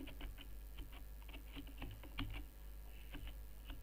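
Quiet typing on a computer keyboard, a steady patter of light key clicks in an irregular rhythm with a few slightly harder taps, close by and alone.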